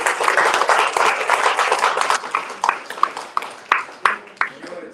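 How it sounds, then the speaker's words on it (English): Applause from an audience for a host on a tech show, a dense stretch of clapping that thins toward the end into a few separate, distinct claps. "round of applause for our host"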